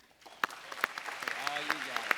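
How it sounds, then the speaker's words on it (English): Scattered, sparse handclaps begin a round of applause at a sportsmen's charity dinner where George Strait is accepting an award, a few distinct claps with faint voices and room noise underneath. "everyone in this room deserves a huge round of applause for supporting this great cause"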